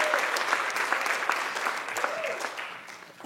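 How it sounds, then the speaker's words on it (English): An audience applauds at a commencement ceremony, steady clapping from a large crowd that continues for several seconds. "Y'all can clap for that."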